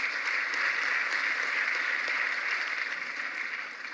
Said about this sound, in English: And we applaud you,